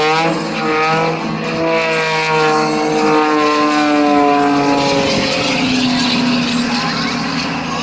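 Aerobatic propeller airplane performing at an airshow, its engine droning loud and continuous overhead, pitch sweeping steadily as it climbs and pushes inverted over the top.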